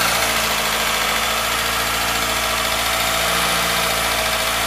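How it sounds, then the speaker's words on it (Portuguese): An engine runs steadily at idle, a constant mid-low hum with even mechanical vibration and no clatter, close and alone for several seconds. "Agora tá praticamente só o barulho do motor mesmo."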